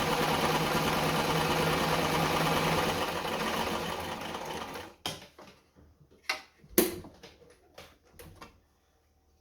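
A Singer 237 Fashionmate sewing machine runs steadily on its longest stitch setting with a close, continuous mechanical whir, then stops and gives way to a few scattered clicks and knocks.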